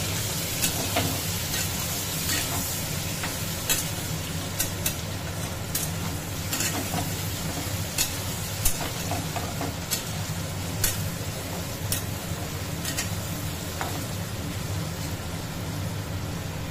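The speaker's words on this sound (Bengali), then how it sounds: "পনিরটা দিয়ে দিয়েছি, এর মধ্যে হালকা নুন আর হলুদ দিয়ে দেবো।" Paneer fries in hot white oil in a kadai with salt and turmeric added, giving a loud, steady close sizzle with occasional light ticks and stirring clicks throughout.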